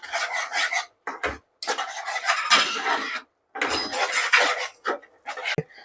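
A spoon scraping and stirring egg masala with fresh coriander in a pan, heard as close, rasping strokes in short bursts separated by brief pauses, with no talking.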